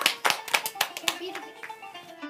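A few people clapping at a children's Ramadan quiz show, a run of distinct, fairly loud claps in a loose rhythm that thins out and fades toward the end, with a faint voice underneath.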